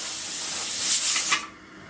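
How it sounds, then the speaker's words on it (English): Steam hisses out of a pressure canner building pressure on the stove, a loud, close, steady spray that swells and flares near the end, then cuts off sharply. "See the steam flowing out of there?"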